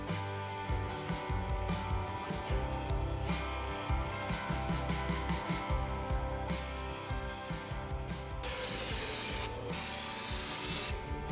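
CRC penetrating spray hisses from an aerosol can onto parts of a Beaudry power hammer under restoration, with a loud, steady close-up burst near the end and rubbing, handling noises throughout.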